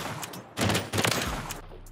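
Two close bursts of FR 556 rifle fire in Modern Warfare 3, loud and sharp with a short tail, separated by a brief pause.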